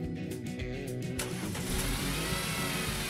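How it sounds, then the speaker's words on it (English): A car engine is started during an automotive air-conditioning service, with the diagnostic tool's hoses hooked to the service ports; a brief crank gives way to a steady, close idle rumble. "Now you can start the engine."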